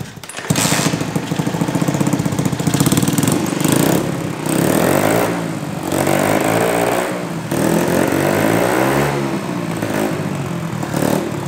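A Tunturi Masai moped engine fires and keeps running, a loud, close, raspy two-stroke buzz that rises and dips slightly with throttle changes and carries on steadily without talking.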